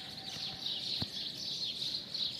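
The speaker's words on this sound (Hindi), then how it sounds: "आप चिड़ियों की आवाज़ तो सुन रहे होंगे, आप देख सकते हैं सुबह का समय माशाल्लाह, चिड़ियों के चहचहाने की आवाज़" Birds chirp and twitter continuously in the early morning outside near apartment flats, a soft, steady chorus heard faintly at a distance.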